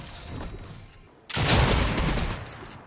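A gunshot in the video game Fortnite: a sudden loud blast that cuts in midway and rolls into a dense, sustained burst of noise, following a quieter stretch, with no talk.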